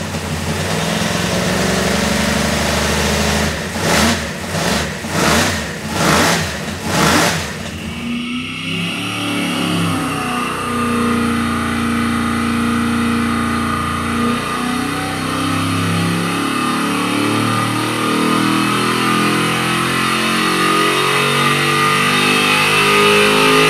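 A 427 cubic inch LSX engine runs on a dyno with a few rhythmic revs, then sweeps up in a long, loud, sustained pull under load that holds steady and close.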